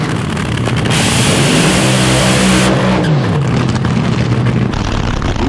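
AA/Fuel dragsters at the 2025 March Meet roar loudly down the drag strip, a thunderous sustained engine blast with a rising, sweeping pitch as the pair launch and pass, continuous and overwhelming with no talk.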